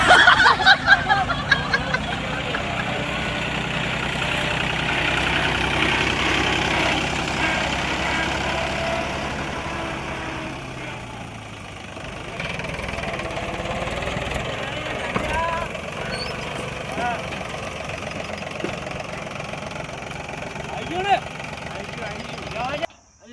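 A tractor engine idles steadily in a farm field, a low continuous rumble running throughout while people talk and laugh over it, dipping briefly midway before resuming.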